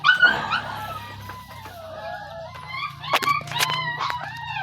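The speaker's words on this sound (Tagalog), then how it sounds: "Makulit na aso na dito." A dog whimpers, yips and lets out short barks at close range, the whines rising and falling in pitch, over a low steady background hum.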